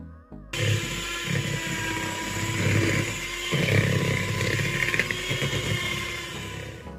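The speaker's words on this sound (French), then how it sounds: "je vais remuer tout ça au batteur électrique" An electric hand mixer whirs through mascarpone, icing sugar and lemon juice, a close, steady motor buzz with rhythmic churning swells as the beaters work the mixture.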